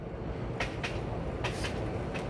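At the old Suolahti railway station on a festive day in 2019, a train rumbles steadily nearby, with a few sharp metallic clacks over the continuous low roar.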